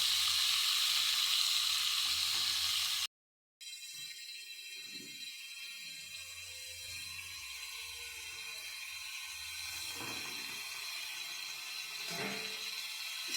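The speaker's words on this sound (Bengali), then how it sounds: "সবজিটাকে এই হালকা ভাজার পরে আমরা ঝিঙেটাকে তুলে দেবো।" Ridge gourd sizzles steadily as it fries in a pan, a continuous close frying hiss that cuts out briefly near the start and then carries on with faint stirring scrapes.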